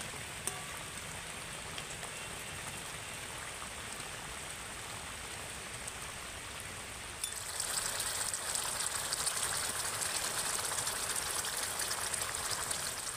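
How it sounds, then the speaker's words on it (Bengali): Fish pieces simmering in a curry gravy give a steady, dense bubbling hiss like light rain. It gets slightly louder partway through and continues alone with no talk. "দিয়ে কিন্তু কিছুক্ষণ ফুটিয়ে নিতে হবে ঝোলের মধ্যে।"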